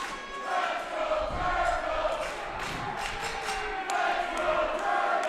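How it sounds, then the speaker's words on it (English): Wrestling crowd at a live event cheering and shouting, a rumbling mass of voices with scattered claps and thuds, rising and falling over several seconds. "you can hear the crowd on Tony's side tonight"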